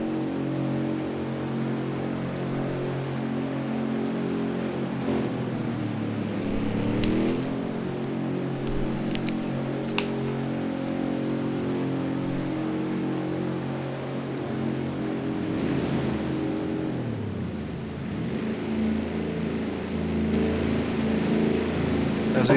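A Winston Cup stock car heads down pit road at Canadian Tire, its engine a continuous loud drone whose pitch dips and rises as it slows and revs, with no quiet gaps.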